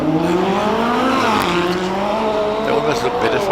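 A McLaren 570S race car launches hard from a hillclimb start line, its engine note rising through steady harmonics with a brief shift and continuing loud, sustained revving that fades slightly as it pulls away, with faint voices over it.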